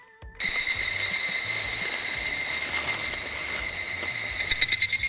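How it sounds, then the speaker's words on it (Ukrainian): Cicadas give a loud, steady monotone drone, a dense buzz that starts abruptly and holds almost unbroken, pulsing a little near the end. "Якщо ви чули монотонне дзищання у сцені про літа в японському фільмі, швидше за все, це саме вони."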